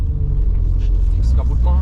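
Simca Rallye 2 engine idling at a standstill, a deep, steady, close rumble with a voice talking over it.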